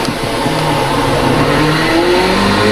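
LMP2 race car engine at Spa in iRacing accelerating out of a corner with slight wheel spin, a loud sustained in-car engine whine climbing steadily in pitch, no talk.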